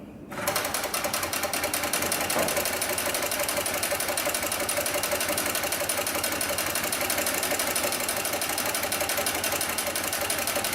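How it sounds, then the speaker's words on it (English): A double-feed sewing machine stitches steadily through four layers of heavy-duty webbing, a loud, continuous rapid mechanical chatter that starts after a brief quiet moment and runs without pause to the end. "we'll go ahead and sew through 4 layers of this heavy-duty webbing"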